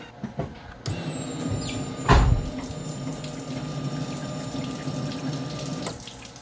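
Fuel sprays steadily out of a leaking regulator during pump pressure testing on a Dakota being fitted with a small block V8, a continuous hissing gush with a brief louder burst near the start, close and unbroken for several seconds.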